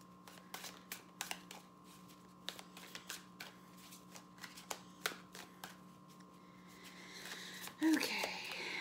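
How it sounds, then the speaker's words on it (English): Tarot cards are shuffled by hand in a rapid series of short crisp riffles and snaps, close and fairly quiet, followed by a brief louder rustle. "One more shuffle, though."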